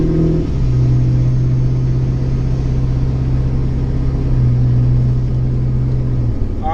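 Two warmed-up off-road rigs, including a Can-Am Outlander four-wheeler, idle loudly close by, a steady deep engine rumble with a droning low tone that holds throughout.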